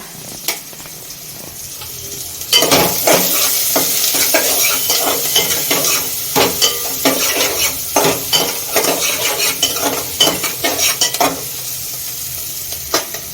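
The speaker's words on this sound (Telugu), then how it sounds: "చామదుంపల పులుసులోకి ఆనియన్స్ని ఒకసారి ఇలా జస్ట్ అలా ఫ్రై చేసుకొని మసాలా పట్టించుకుంటే టేస్ట్ అనేది బాగుంటుంది" Onions frying for a taro root curry give a steady sizzle in a hot pan, broken by repeated scraping and clinks of a spoon stirring against the metal, close and continuous.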